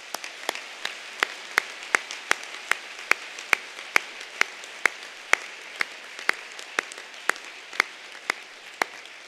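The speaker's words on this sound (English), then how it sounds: "I think you deserve another round of applause." Sparse, evenly spaced claps at a school speech day, sharp individual hand claps repeating in a slow regular rhythm over faint room noise, more like one or a few people clapping than a full audience.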